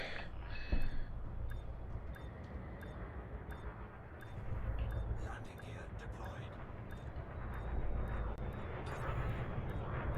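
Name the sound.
spaceship landing in a video game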